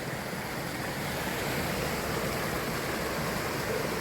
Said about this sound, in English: that water's coming down with a fair bit of force up there